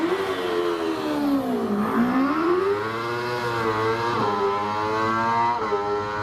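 A 600cc OMS Hornet race car at Prescott hill climb revs hard, its high-pitched engine note rising, dipping and climbing again through gear changes over several seconds, heard from a moderate distance without talk.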